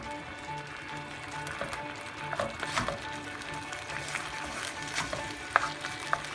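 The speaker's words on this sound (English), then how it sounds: "I'm going to start mixing." Cauliflower being stirred and fried in a pan for Hakka chilli gobhi sizzles steadily, with scraping stirs and occasional sharp clinks of the utensil against the pan, close and fairly loud.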